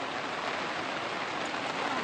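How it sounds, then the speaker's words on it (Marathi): Heavy rain pours steadily onto a shelter, a dense, even hiss of water with no breaks and no voices. "पावसानं तर जोरात हजेरी लावली."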